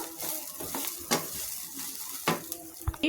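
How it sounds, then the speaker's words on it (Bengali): Rice is stirred as it fries in a pan for pulao, a steady sizzle broken by several scraping strokes of the spoon at uneven intervals. "চালটা একদম সুন্দর করে ভাজা হয়ে গেল।"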